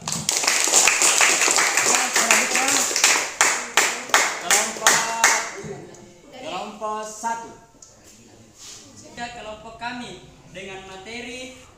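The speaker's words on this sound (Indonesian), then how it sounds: "Tepuk tangan, teman-teman." Students clap in unison during an Islamic class presentation, a run of sharp rhythmic claps that stops about halfway through, after which a voice speaks alone.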